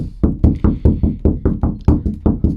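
Rapid, evenly spaced knocks on a hollow garage door panel, about a dozen sharp resonant raps in quick succession, close and loud.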